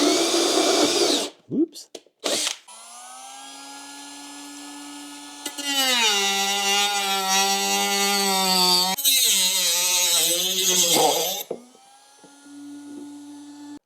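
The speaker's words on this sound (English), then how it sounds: "We're going to use our hole saw to start us off, and then we're going to use a Dremel to finish the lines" A hole saw and then a Dremel cut a plastic skid plate on a 2021 Jeep Wrangler, producing a high tonal motor whine that spins up, wavers under load and stops, with brief handling noises and a short spoken exclamation.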